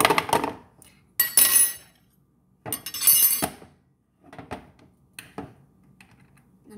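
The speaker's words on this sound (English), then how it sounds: "now I'm gonna stir." A small utensil stirs chicken and seasoning in a toy mini crockpot, giving several close bursts of scraping, clinking strokes separated by short pauses.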